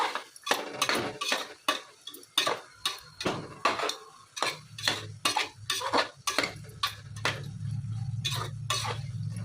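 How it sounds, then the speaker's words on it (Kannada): Vangi bath mixture with salt being stirred in a pot, a metal spoon scraping and clinking against the sides in a quick repeated rhythm, close and fairly loud, over a low steady hum that swells toward the end. "ಉಪ್ಪು ಮೇಲೆ ಎಲ್ಲದನ್ನು ಒಂದ್ಸಲ ಮಿಕ್ಸ್ ಮಾಡ್ಕೊಳ್ಳೋಣ ಚೆನ್ನಾಗಿ"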